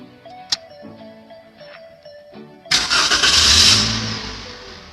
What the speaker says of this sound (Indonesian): setelah kita cabut lambdanya, kita akan menyalakan mesinnya.